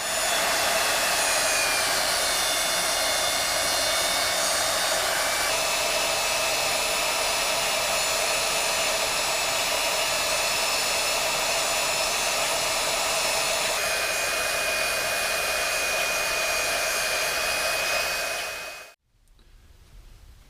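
Steady, loud whining roar of an abrasive stone grinding a tractor axle on a lathe, held for nearly twenty seconds with slight shifts in pitch before cutting off abruptly to a quieter hum.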